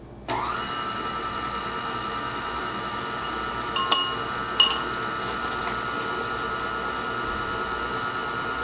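Flour being mixed in a bowl with an electric mixer, a steady whirring motor drone starting abruptly and running throughout, with a few brief clinks of the beaters against the bowl midway.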